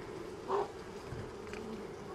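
Honeybees hum steadily around an open five-frame hive, a close, continuous buzzing drone with one brief louder swell as a bee passes near.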